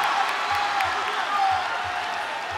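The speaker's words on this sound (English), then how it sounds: "Listen to this crowd." Crowd noise at a ONE Championship MMA women's bout, a steady wash of roaring and cheering throughout, fairly loud and continuous with no distinct voices rising above it.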